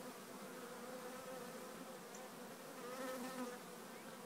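Honey bees making orientation flights around hives newly set down at a bee yard in Texas brush country, a steady, dense buzzing hum from many insects that carries on unbroken throughout.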